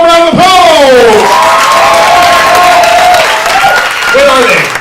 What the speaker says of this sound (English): Have a warm round of applause!